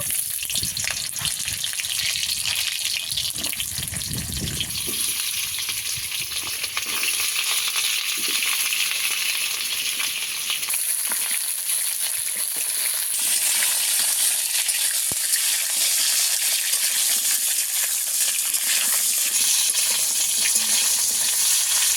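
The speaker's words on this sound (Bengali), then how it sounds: "তেল দিয়ে দেব। গরম হয়ে গেছে, পটলগুলো ভেজে নেব।" Sliced pointed gourd (potol) fries in hot oil in a wok, making a loud, continuous bright sizzle with occasional stirring scrapes and no talking.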